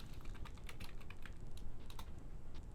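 Quiet computer keyboard typing a folder name, a rapid run of light, close key taps at a steady pace, with no voices.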